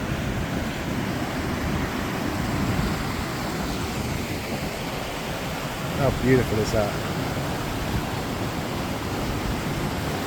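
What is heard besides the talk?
waterfall in the Scottish wilderness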